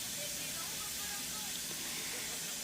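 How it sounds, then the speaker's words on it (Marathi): Steam hissing from a covered pan of shev bhaji, a Maharashtrian gravy of spiced gram-flour noodles, as a steady, soft, broadband hiss that holds evenly throughout with no clear breaks. "आता आपण त्याच्यावर झाकण ठेवून थोडीशी वाफ काढून घेऊया त्याची"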